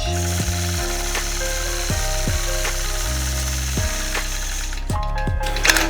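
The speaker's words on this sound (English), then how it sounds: "Engage the machine, stitch." A quilting machine stitches a woven border with a steady mechanical hum. Its pitch shifts up and down in stepped changes as the speed varies, close and continuous, with no talking.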